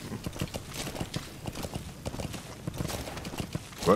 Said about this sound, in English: This horse can't gallop, or whatever they call it, gallop.